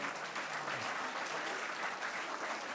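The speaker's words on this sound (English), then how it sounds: "The claps must go on." An audience applauds in a continuous, even roar of clapping hands that holds steady for a few seconds, moderately close and without speech over it.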